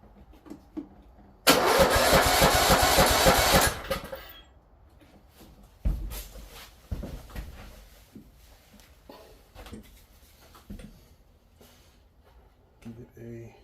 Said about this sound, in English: You think I can force it to run a little bit?